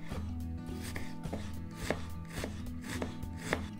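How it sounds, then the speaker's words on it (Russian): A knife chops a 150-gram onion into small cubes on a board, giving steady, rapid, close knocks in an even rhythm with no talking. "Нарезаю мелким кубиком."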